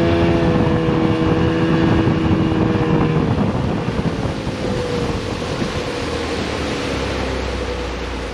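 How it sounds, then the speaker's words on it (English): Running at full throttle with the trim all the way down, a 1959 Silverline Swift boat takes off with a loud, sustained engine roar mixed with wind and water rush that eases slightly toward the end, with no talking. "I'll do a full throttle takeoff."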